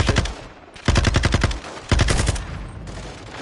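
Automatic gunfire in the Modern Warfare 2 campaign comes in three loud, rapid bursts of evenly spaced shots separated by short pauses, with battle noise lingering between them.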